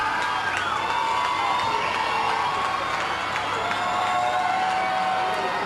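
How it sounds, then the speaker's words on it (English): Home crowd yelling and cheering in the stands at a high school state football championship, Baker versus North Bend, on a third-down play; a steady, loud mass of voices with shouts and whoops rising throughout. "North Bend crowd expectantly waiting for a stop here on 3rd down."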